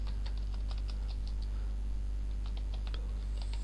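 Steady clicking of computer keyboard keys as a username is typed, quick irregular taps close up over a constant low mains hum, no voices.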